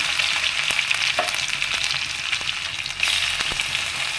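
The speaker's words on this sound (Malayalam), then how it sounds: "അതിലേക്ക് ചതച്ച് വെച്ചിരിക്കുന്ന ചുവന്നുള്ളി വെളുത്തുള്ളി ഇട്ട് കൊടുക്കാം" Crushed shallots and garlic hit hot coconut oil in a pan, giving a loud, dense sizzle with frequent sharp stirring clicks and a brief swell near the end, alone without talk.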